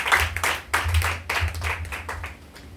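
A church congregation claps in rhythmic bursts to acclaim Jesus during a French-language worship service, steady broadband claps close and loud over a low hum, with no talk.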